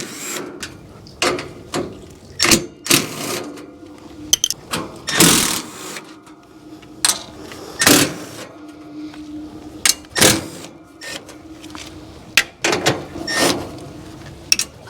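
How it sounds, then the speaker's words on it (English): A compact Milwaukee impact driver fitted with a Malco 1/4 and 5/16 flip bit backs screws out of an A/C condenser fan housing, giving repeated short rattling bursts separated by brief pauses, close and fairly loud with no talking. "I'm just using this Malco bit. This is the flip bit, the 1/4 and 5/16 with a little Milwaukee impact."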